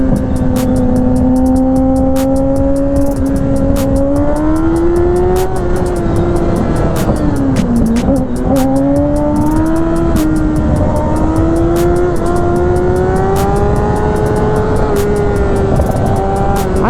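A loud engine drones continuously, its pitch rising and falling as it revs up and eases off, with no talking.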